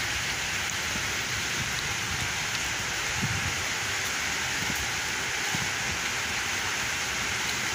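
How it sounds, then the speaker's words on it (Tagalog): Steady rain in Kuwait pours down in a constant, even hiss, with no voices, just the dense patter of drops on surfaces. "Ulan na siya, ulan."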